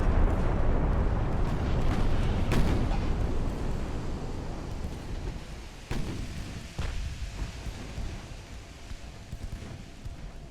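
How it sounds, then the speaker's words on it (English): A destroyer's torpedo strikes a light cruiser in the naval battle game Ultimate Admiral: Dreadnoughts, a heavy, rumbling blast that roars continuously, with sharper cracks near the start and midway as the noise slowly fades. "that was my destroyer torpedo that hit the light cruiser"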